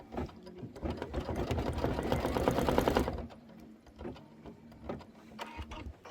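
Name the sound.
embroidery machine sewing chenille stitches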